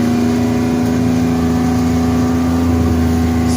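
A car engine drones steadily at mid pitch while driving slowly along a rough nature track, loud and close inside the cabin with a constant hum and no speech.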